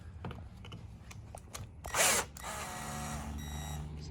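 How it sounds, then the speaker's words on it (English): A power drill removing the leg rest screws on a HealthPro Premier 3D massage chair, heard as a brief whir followed by a lower, steadier drill hum, with faint clicks and handling before it. "grab a drill. And you'll want to take out these two screws that are for the leg rest."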